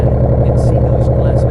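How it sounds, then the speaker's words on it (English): A Bentley V8 fitted with an Akrapovič sports exhaust runs with a deep, steady, throbbing rumble, loud and close, and a person's voice is heard over it. "Listen to that. Oh, yeah. Proper fruity V8."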